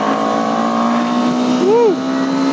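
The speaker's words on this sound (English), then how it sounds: "let's give it a binge as we turn into the third gear" A vehicle pulls hard in third gear with a loud, sustained engine whine that rises slightly in pitch near the end, heard close-up and steady.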